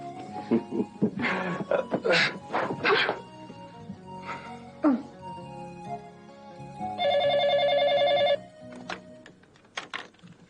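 A telephone rings once with a bright, buzzing electronic tone lasting over a second, set among scattered voices and background noises.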